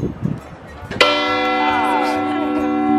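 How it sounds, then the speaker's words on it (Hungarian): A single church bell rings loudly in a tower, struck once after some faint voices and then left to hum and ring out as a long, steady, sustained tone. "a harangok közül ez az egy működik még most is, és 12 órankor lehet hallani"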